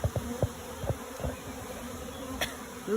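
A swarm of honey bees buzzing outdoors, a dense steady drone with individual bees zipping close past, fairly loud and continuous with no talk.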